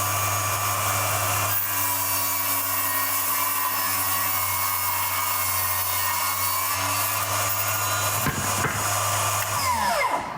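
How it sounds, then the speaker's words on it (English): A Milwaukee M18 FUEL 8-1/4 inch cordless table saw runs steadily, its motor hum holding loud and constant while the blade cuts through wood, then it winds down quickly and stops near the end. "we're gonna flip this on"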